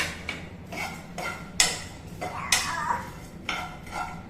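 Homemade cerelac powder being roasted in a pan, with a spoon scraping and tapping against the metal in regular strokes, close and clear, a soft rustle between each scrape.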